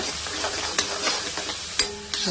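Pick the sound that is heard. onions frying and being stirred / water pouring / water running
onions frying and being stirred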